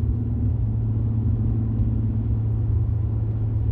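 Steady low exhaust rumble from an idling Hyundai Genesis Coupe with a modified, louder exhaust and the muffler still on, heard up close with no talking.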